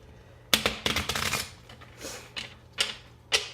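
Tarot cards, a Rider-Waite and Egyptian deck, being shuffled by hand in a quiet room; several crisp riffling bursts come in separate, irregular strokes, close and fairly loud.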